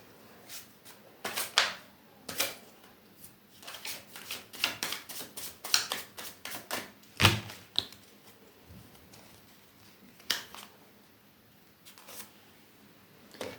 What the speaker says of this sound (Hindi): लास्ट शफल करती हूँ।